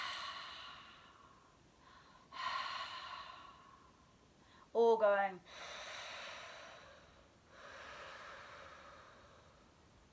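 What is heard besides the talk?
breathing with throat constriction, like misting a mirror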